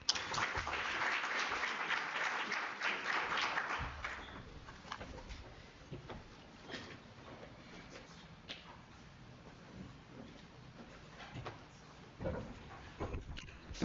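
Audience applause closing a speech at a research seminar, a broad burst of clapping for about four seconds that then drops away to faint scattered sounds and quiet murmuring in the room.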